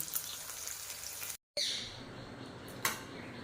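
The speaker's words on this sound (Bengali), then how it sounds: "এখানে কিন্তু খুবই লো ফ্লেমে এগুলোকে আমি ভাজা করছি" Food frying in oil over a low flame gives a soft, steady sizzle with a brief dropout partway through.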